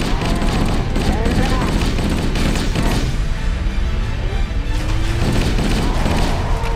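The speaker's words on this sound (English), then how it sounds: "Wait, they're still operating that turret?" Turret gunfire in the video game Halo: Combat Evolved, dense rapid bursts and blasts layered with crashes and zipping effects, loud and continuous throughout.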